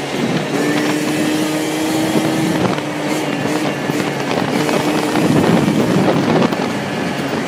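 Heavy wind buffets the microphone while riding a scooter along a straight road, a constant loud roaring rush with a faint engine hum underneath and no talk.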